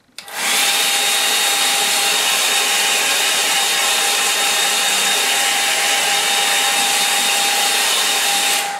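A hair dryer blows over a watercolour painting, switching on abruptly and then holding a loud, steady whooshing drone with a faint whine, close by and uninterrupted.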